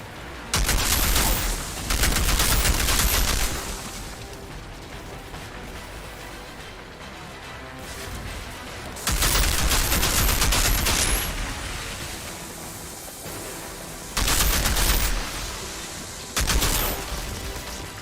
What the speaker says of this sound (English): stop shooting me with shit